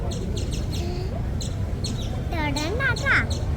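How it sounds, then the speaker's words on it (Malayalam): Small birds chirping in quick repeated high tweets, close by, over a steady background hum with some faint voices. "ഇതൊക്കെ കുഞ്ഞു പക്ഷി"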